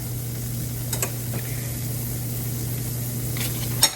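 Pancake batter frying in oil in a pan gives a soft continuous sizzle, with a few faint clicks and a sharper knock near the end; no one speaks.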